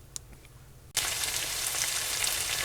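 Beef and gravy in a pot for canning break into a loud, steady sizzle after a near-silent first second, a dense frying hiss that holds evenly to the end with no voices.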